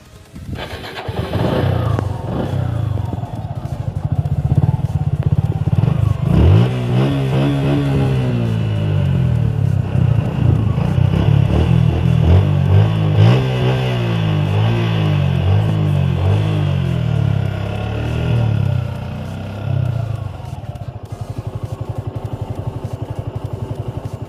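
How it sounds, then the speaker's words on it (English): A Suzuki Gixxer SF 150 motorcycle starts up and idles with a smooth exhaust note, then revs up in several rising blips before settling back to a steady idle, close and loud, with no talking. "The exhaust sound is smooth."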